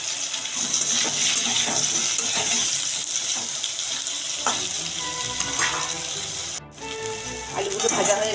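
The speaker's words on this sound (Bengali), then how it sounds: "আলুগুলো ভেজে নেব।" Potatoes fry in hot oil with a loud, steady hissing sizzle and scattered spatters and stirring knocks, briefly cut off near the end before resuming.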